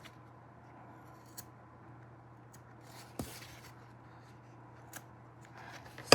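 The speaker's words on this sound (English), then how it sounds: "make sure that your scissors can go through it like this" Scissors snip through felt while a mask is being made, giving a few sparse, faint cuts spaced seconds apart over a quiet, low background hum.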